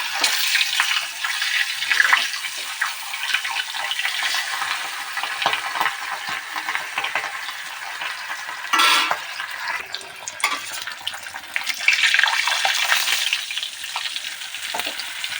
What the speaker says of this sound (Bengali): মাছটা এক পিট ভাজা হয়ে গেছে আমি উল্টে দেবো এটাকে